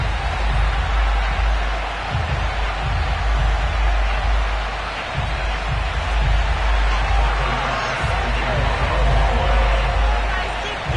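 Steady roar of a sold-out stadium crowd in Madden 22 before a Bills–Dolphins game in Buffalo, a continuous wash of cheering and hubbub under a play-by-play commentator's voice.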